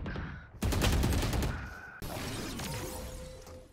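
Gunfire in Valorant, a loud dense burst of shots with shattering crashes that cuts off abruptly, then a second stretch of rattling fire and game effects.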